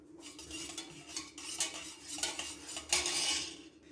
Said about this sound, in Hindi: दही ऐड कर लेंगे और इसको अच्छे तरीके से हम एक दफ़ा हिला के मिक्स कर लेंगे